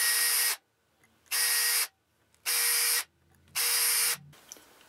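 A small drill bit boring pilot holes in a plastic part: four short bursts of a high, whining motor, each about half a second, separated by quiet pauses.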